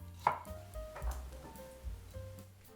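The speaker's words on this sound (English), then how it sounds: "cut 1/3 of cucumber into sticks." A knife chops a cucumber into sticks on a cutting board. A few separate close thuds come over a quiet kitchen background, with no talking.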